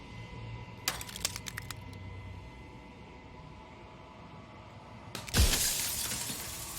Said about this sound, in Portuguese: Então outra rachadura se forma e outra monta o espelho em fractais irregulares de vidro quebrado